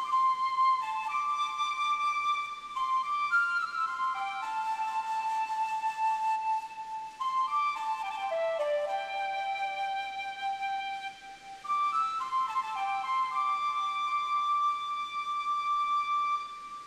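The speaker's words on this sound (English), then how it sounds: "I do love the flute" A melodic flute line in Pokémon Legends: Arceus plays clearly and steadily, sustained tones stepping up and down through a slow tune with a few brief pauses, alone without talk.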